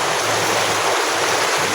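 A high, strong river current in flood, roaring close and loud as a dense continuous rush of flowing water, with no voices over it.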